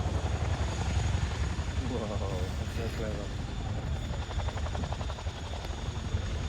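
A helicopter at an air show, a steady rotor and engine drone heard from a distance while an announcer talks over the public address throughout.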